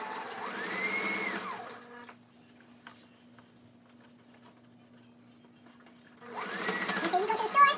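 A sewing machine stitches t-shirt fabric for an 18-inch doll outfit, a close steady whirring hum in two runs separated by a pause, with a faint low tone continuing through the gap.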